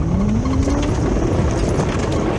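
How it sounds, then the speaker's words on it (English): A car with a 30-valve V6 engine being driven hard, its engine roaring loud and close with a rising pitch as it revs, over constant road and tyre noise. "I really like these 30 valve V6 engines"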